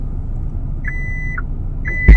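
Two clear electronic beeps, one long and one shorter, as a Hyundai Tucson power liftgate opens, sound over a low idling rumble, ending with a sudden mechanical clunk.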